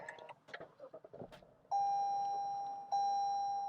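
Lexus vehicle starting up inside the cabin: after some faint rustling, a loud steady electronic chime tone sounds, holds for about a second, breaks briefly, then resumes, clear and close with no talk.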